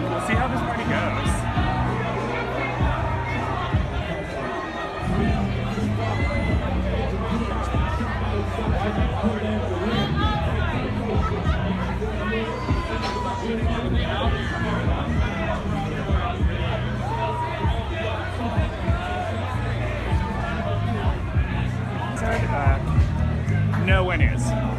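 A loud, dense protest crowd at Berkeley chatters and murmurs continuously, a steady wall of overlapping voices close around.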